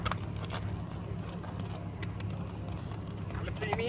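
A horse's hooves clop steadily while it is turned left and right by hand, the beat soft and somewhat distant under someone talking throughout.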